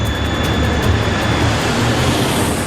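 Played recording of the Comair Flight 5191 airliner on its takeoff roll, a loud continuous jet engine roar with a steady whine and rumble, no talk.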